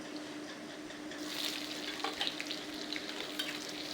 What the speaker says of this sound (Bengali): এবার আমি এই তেলের মধ্যেই দিয়ে দিচ্ছি পেঁয়াজ আর ক্যাপসিকাম।